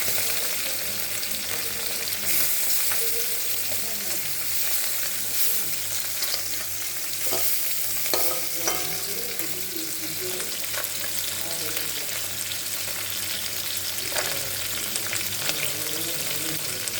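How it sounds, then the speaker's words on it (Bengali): Small fish fry lightly in hot oil, giving a dense, continuous sizzle that crackles close up and steadily throughout, with faint occasional stirring scrapes and no talking. "হালকা ভেজে নেব মাছগুলো সব।"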